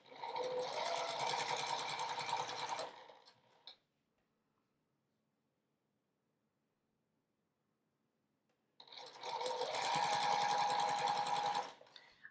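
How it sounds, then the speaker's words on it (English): A sewing machine stitches quilt squares together with a 1/4 inch seam, running in two steady, fast, close bursts separated by several seconds of silence. "I'm just going to take the next square in each row and sew it on, right sides together, 1/4 inch seam"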